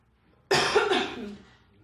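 A person coughs hard in a single burst that trails off, loud and close, with no talk over it.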